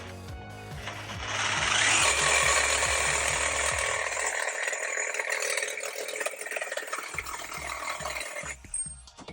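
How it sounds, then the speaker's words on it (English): A DeWalt DCS367 reciprocating saw with a new 10/14 TPI blade cuts through thick steel, a loud, continuous, harsh metallic grinding and buzzing that begins with a sharp start, holds steady for several seconds, then stops abruptly. "I have the different reciprocating saw. This is DCS367. And I'm gonna use the same blade, brand new blade, 10/14 TPI"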